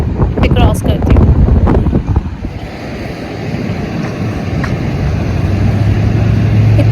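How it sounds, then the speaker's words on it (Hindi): A cold wind blows hard outdoors beside a street at a traffic signal, buffeting the microphone with a steady, roaring low rumble, while a voice is heard briefly at the start. "इतनी सर्द हवा चल रही है"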